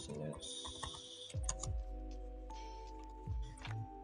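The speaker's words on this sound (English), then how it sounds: "Just typing anything that comes to my head." Typing on a computer keyboard during a software walkthrough, with soft clustered key clicks at a fairly close distance under a steady background hum and a few brief tonal chimes.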